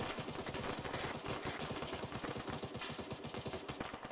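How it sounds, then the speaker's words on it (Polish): Rapid gunfire from the video game Arma 3 rattles on in dense, fast bursts, moderately distant and steady throughout with no talk over it. "Strzały dalej idą."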